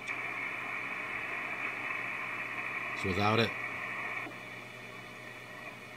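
Amateur radio receiver on the 20 meter band with DSP noise reduction switched off, giving a steady hiss and hum of static throughout, with a brief spoken phrase over it partway through.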